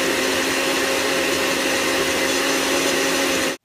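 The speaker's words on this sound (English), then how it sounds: "I'm just gonna put it in the blender." A kitchen blender whirs steadily at high speed through oranges, lemon and water, a loud, even motor drone with a buzzing whine that cuts off abruptly at the end.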